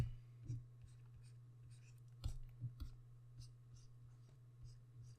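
A pencil sketches wings on paper for a body-anatomy drawing, making faint, close scratchy strokes in short irregular bursts with a few sharper taps over a low background hum.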